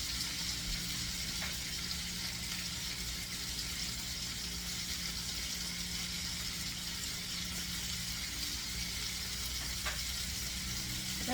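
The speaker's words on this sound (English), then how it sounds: "So we're going to keep on frying these for how long?" Chicken scaloppine frying in a pan gives a steady, even sizzle and crackle, fairly quiet and close, with no voices over it.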